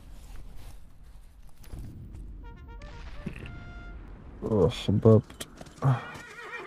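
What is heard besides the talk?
horses neighing in a video game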